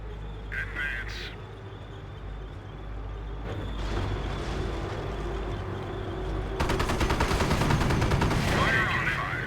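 Gunfire and machine-gun bursts rattle in a Company of Heroes World War II battle with a Sherman and a Crocodile flamethrower tank, growing denser and louder toward the end over rumbling engines, with a voice heard briefly.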